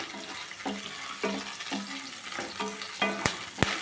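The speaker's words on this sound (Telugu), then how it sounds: "ఎండుమిర్చి కరివేపాకు పోపు దినుసులు ఇంకా ఉల్లిపాయలు తాలింపు వేసేయడం" Dried red chillies, curry leaves, tempering spices and onions fry in oil for a snake gourd stir-fry, a soft sizzle broken by rhythmic scraping stirs about every half second, ending in two sharper knocks.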